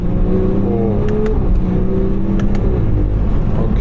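A Stage 2 car with traction control off revs hard in the rain and loses grip. The loud, steady engine drone rises and falls in pitch, with a few sharp ticks over continuous road and wet noise.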